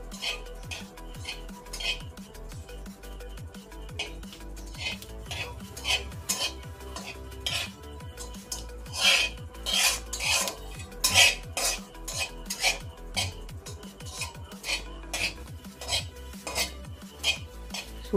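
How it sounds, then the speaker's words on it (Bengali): Dried red chili and Bengali five-spice seeds fry in oil in a wok, with a ladle clinking and scraping against the pan in busy bursts over a steady low sizzle. "শুকনো লঙ্কা 5 ফোড়নটা ভেজে নিচ্ছি।"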